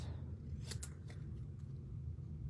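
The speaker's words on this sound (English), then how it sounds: "I'm going to go ahead and I'm going to cut these ends off" Scissors snip the ends off a handmade card, a few quick crisp cuts close by and quiet, over a low steady background hum.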